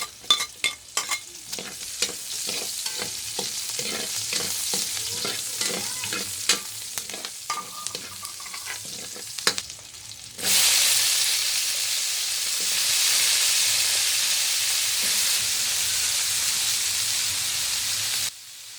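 Garlic sautéing in a pan over a wood fire, with close stirring and scraping over a steady sizzle, then a louder, even frying hiss as more ingredients go into the hot pan.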